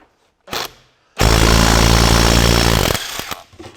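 A power tool undoes seized nuts on a Ferguson TE20 hydraulic lift cover. A short burst comes first, then a loud, sustained close-up rattling whir for about two seconds, followed by brief clatters.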